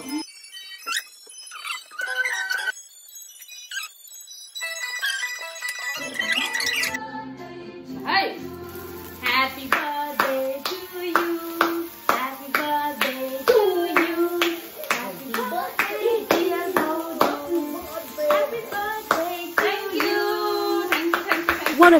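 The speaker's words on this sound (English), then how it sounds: "What a clap!" Sharp hand claps ring out repeatedly after a gentle chiming intro, crisp and close, mixed with squeaky playful toy-like sounds and a voice speaking over them.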